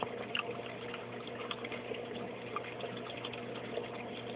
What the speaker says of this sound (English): The only thing that I can hear with this sump, period, is the water going through the PVC drain line.